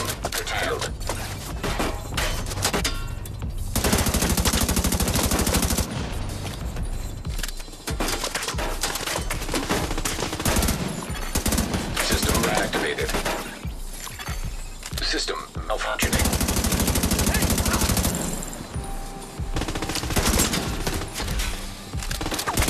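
Gunfire from The Division 2 goes on steadily in dense, rapid bursts of automatic fire with sharp cracks and impacts, mixed with game sound and occasional voices across a long, busy firefight.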